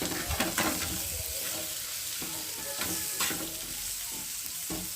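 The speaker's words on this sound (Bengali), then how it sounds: "দিয়ে দেবো একটু লঙ্কার গুঁড়ো। দিয়ে ভালো করে একটু ভেজে নেব।" Onions sizzling in hot oil with chili powder, a soft continuous frying hiss broken by occasional scrapes and clinks of a stirring spoon, close and fairly quiet.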